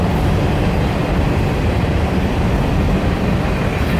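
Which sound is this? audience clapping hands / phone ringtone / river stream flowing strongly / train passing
train passing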